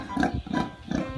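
A pig in a video game oinks in three short grunting bursts, evenly spaced and fairly faint, with no voices over it.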